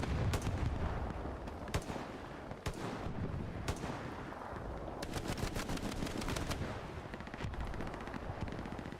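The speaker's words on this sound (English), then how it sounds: "Very accurate shooting there from SXC Dane." Gunfire rattles through a Hell Let Loose match, with sharp single shots, heavy booms and a rapid machine-gun burst near the end over a constant battlefield rumble.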